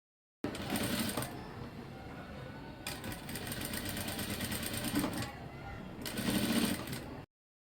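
A sewing machine stitches tucks on a fabric belt, its motor running in a continuous whirring rattle that speeds and slows in a few bursts, close up and steady.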